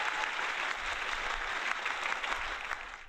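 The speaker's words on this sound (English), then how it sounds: "There goes the applause" Applause from an audience, a steady, fairly faint wash of many hands clapping that continues throughout without a break.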